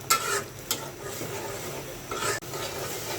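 Spice masala sautés in a pan for a fish, eggplant and potato curry, giving a quiet sizzle with a few scraping strokes of the spatula.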